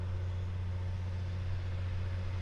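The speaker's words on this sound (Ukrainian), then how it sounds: "Ну Мотор так прикольно робить." A John Deere tractor engine runs steadily at full revs, a deep, even bass hum with no change in pace throughout.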